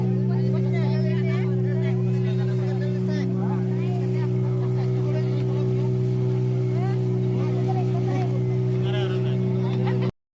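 Steady motorboat engine drone with strong low hum on a ride to Sindhudurg fort by sea, continuous and close, with crowd chatter from passengers underneath.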